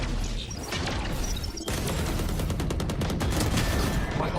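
Flashbang and rapid gunfire in the shooting game Valorant, a dense clatter of shots and crashing impacts, loud and close, followed by a burst of fast repeated fire.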